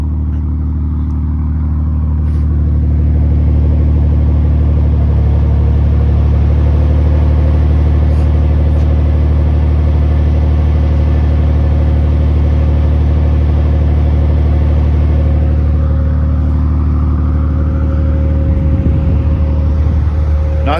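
A BMW M240i (G42) with a muffler delete idles steadily for the full stretch, a loud, deep, even exhaust drone holding close and unbroken with no talking over it.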